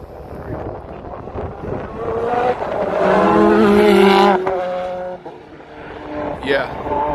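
A historic race car passes on the Road Atlanta circuit, its engine note rising loud and pitching up as it nears, then dropping as it moves off, with wind noise and voices talking over it.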